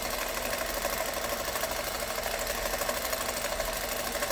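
Sewing machine running steadily while stitching fabric pieces onto a collage hat, a continuous close mechanical whir with rapid even needle vibration and no talk.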